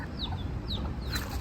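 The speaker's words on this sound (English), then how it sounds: "There are many chickens here." Chickens in a Hawaiian church cemetery give a few short, faint clucks and chirps over outdoor background noise.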